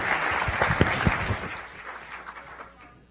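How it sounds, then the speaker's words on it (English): Audience at a Federal Reserve community event applauds, a burst of claps that fades into a thinner, dwindling patter by the end. "Well, while you're applauding,"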